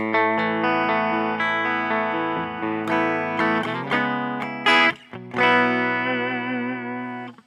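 A clean electric guitar tone played through a Tone Master Pro modeler, sustained chords and single notes ringing out with a few brief pauses, loud and close with no talking.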